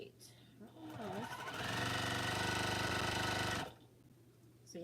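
A sewing machine runs steadily for about two seconds, stitching a quilt row with a loud, even mechanical whir, then stops, while a voice talks before and after.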